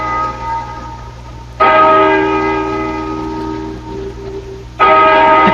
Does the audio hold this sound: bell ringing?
yes